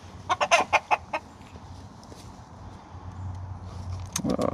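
A hen clucks in a rapid burst of short, close notes, then goes quiet before another flurry of clucks and rustling at the end, with no talking.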